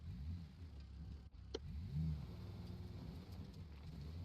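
A Toyota 4Runner in the BeamNG driving game sputters out during an off-road drive, a low engine rumble that dips, with a brief click and whine as it fails, heard at moderate level.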